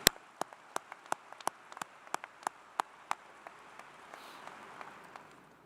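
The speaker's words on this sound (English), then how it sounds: "How about a round of applause for all the family members?" Scattered, sparse hand claps at a Clemson University ring ceremony, about a dozen sharp distinct claps from a few people in the first three seconds, then fading into quiet room noise.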